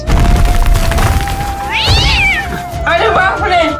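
A cat meows loudly and close by, giving several wavering cries over busy background noise and thumps while people talk excitedly.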